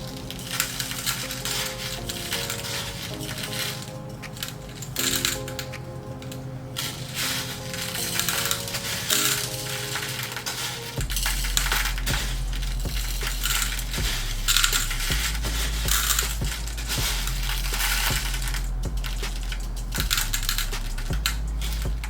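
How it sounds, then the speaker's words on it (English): Pink crushed glass is pushed around inside a tall dish for wedding decor, giving a continuous gritty crunching and clinking over steady background music. "So just look and see wherever you need to move the crushed glass."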